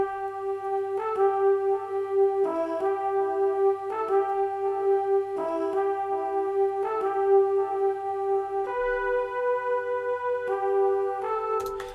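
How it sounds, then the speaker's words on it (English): A horn plays a sustained lead melody in a beat, held brassy notes stepping through a slow phrase over a low steady bass tone, fairly soft and unaccompanied by voices. "Now the last thing that I added was a lead, a horn in this case, and that horn sounds like this."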